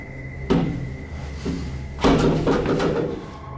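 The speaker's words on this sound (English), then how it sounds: "he hears regular banging noises in the hallway" Banging noises in a hallway: a few sharp knocks and thuds, one early and a louder cluster later, set against a faint steady hum, with no voices.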